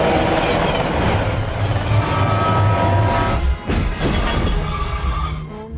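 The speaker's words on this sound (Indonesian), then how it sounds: "Kereta tersebut terus melaju menuju kota" A train races toward a city in an action-film scene, a loud, dense rushing rumble that holds steady, then breaks into a sharp clattering burst before the roar resumes.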